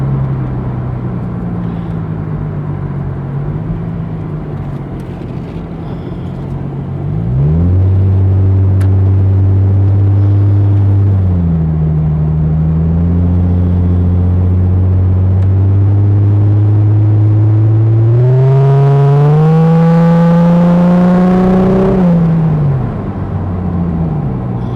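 A 2001 Chrysler Prowler runs and drives down a road, its engine droning low and then swelling louder, climbing in pitch as it accelerates through the gears before easing off.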